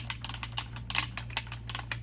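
Rapid clacking keystrokes on a SOONGO wired mechanical gaming keyboard with floating keys, LED backlighting and a number pad, close and steady with crisp tactile clicks, under a low constant hum.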